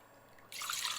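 Water is poured into a measuring cup to measure it for rice cooking, with a sudden broadband splashing rush starting midway and continuing steadily.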